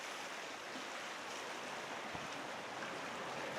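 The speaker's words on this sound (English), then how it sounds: "The river's moving pretty good today." Steady broadband rush of a fast-flowing river along the Naperville River Walk, continuous and even without breaks, heard from the bank with no voices.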